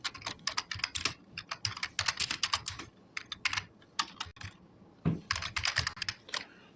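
Fingers type on a computer keyboard while entering text in Notepad, producing close, rapid clusters of clicking keystrokes in uneven bursts with short pauses.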